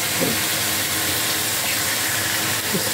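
Sprite soda coming to a boil with pork feet in a cooking pot, a steady close hiss of steam and bubbling that runs unbroken, with no talk.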